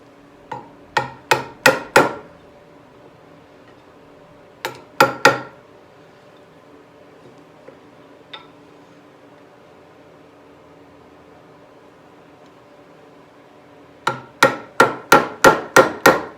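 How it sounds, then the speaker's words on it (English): A hammer drives a chisel into a wooden modern sofa table during finishing. Sharp, close taps come in bursts: four quick strikes, then three, one faint tap, and finally a rapid run of six blows. "I'll just use the chisel and take some of that out."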